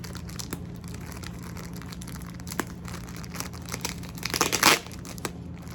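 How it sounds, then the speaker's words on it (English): A crinkly plastic yarn package being worked open, giving soft scattered crinkles that build into a short loud crumpling burst near the end, close and without speech. "Let me see if see if I can get it open without ripping the package."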